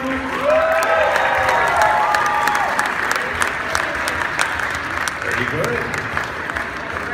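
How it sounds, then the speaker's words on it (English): Audience at a horror fan convention costume contest applauding and cheering for the contestants, a dense, steady wash of clapping and crowd voices that fills the whole stretch without letting up. "let's have a round of applause for all of our contestants"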